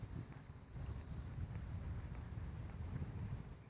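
Low, steady wind rumbling against the microphone outdoors on open water while drifting on a boat, a constant buffeting hum with no talking.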